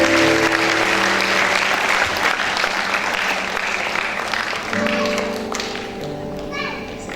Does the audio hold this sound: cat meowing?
no